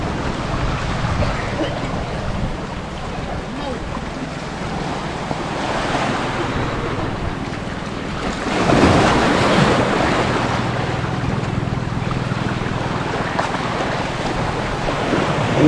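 Sea waves washing onto an island shore with steady wind buffeting the microphone, a constant broadband roar that swells louder in a surge near the middle and stays high, no voices over it.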